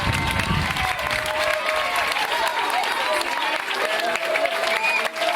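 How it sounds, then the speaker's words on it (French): Sustained audience applause at a Dictée pour tous event in Brétigny-sur-Orge fills a hall, steady and loud throughout with crowd noise and a faint murmur of voices underneath. "Je pense qu'on peut les applaudir très très fort."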